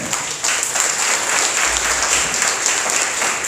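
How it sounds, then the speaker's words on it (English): An audience at a startup accelerator demo day in Taipei applauds a speaker, a steady, dense clapping wash lasting several seconds with a constant high hiss and no clear talk. "please give a big round of applause, make some noise for William"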